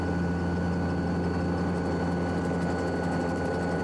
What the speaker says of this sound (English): the aircraft almost seems like it's flying backwards as he comes into the wind